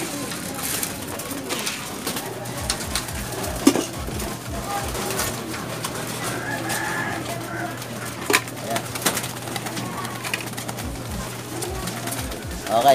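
Racing pigeons coo repeatedly after a pellet feeding, low rhythmic calls running through most of the stretch, with scattered clinks and shuffling around them and a person talking now and then.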